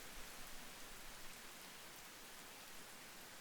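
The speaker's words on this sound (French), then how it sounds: "les premières gouttes de pluie commencent à tomber" Steady, soft rainfall pattering evenly on a window and roof, a dense hiss of drops with no other sounds, fairly quiet and continuous.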